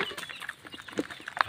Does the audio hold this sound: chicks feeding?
yes